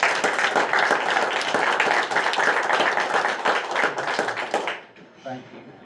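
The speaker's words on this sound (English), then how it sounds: "give her a round of applause" A room full of people at a county commissioners meeting applauds together in a standing ovation, dense clapping for about five seconds before fading out as a voice resumes.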